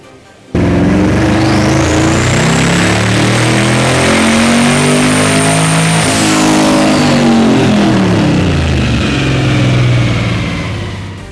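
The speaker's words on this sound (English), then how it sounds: "I'm about to dyno Camaro again, same boost" A 580-horsepower 2016 twin turbo Camaro on a dyno revs hard and climbs steadily in pitch with a rising turbo whine, holds near the top, then winds down as the roar eases.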